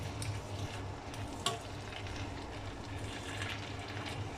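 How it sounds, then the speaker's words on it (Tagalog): Kale, red pepper and cucumber being stir-fried with salt, ginger and garlic in a pan, a soft steady sizzle with scraping stir sounds and one sharper clink, fairly quiet and close, with no talking. "So, haluin lang ng haluin po."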